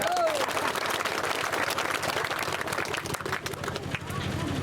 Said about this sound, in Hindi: तालियों की गड़गड़ बजाओ